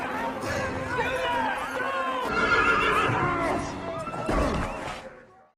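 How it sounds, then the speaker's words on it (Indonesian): A horse whinnies loudly in a film scene as a monk escapes on a stolen horse, with dense harmonic neighing near and up front, a thud of hooves near the end and voices mixed in. "Biarawan itu lalu lari menggunakan kuda Jack"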